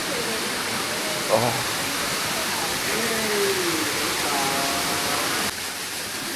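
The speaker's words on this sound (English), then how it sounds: "So this waterfall is pretty famous over here." Steady broadband rush of a waterfall in a Chinese border town, running in its dry season, constant and near throughout with a brief exclamation from a voice.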